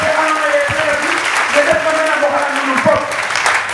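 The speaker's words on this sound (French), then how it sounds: "Asseyez-vous sur les applaudissements de tout le peuple de Dieu" A church congregation applauds steadily through the whole stretch during a Friday worship service in Foundiougne, with a voice speaking and singing-like tones over the dense clapping.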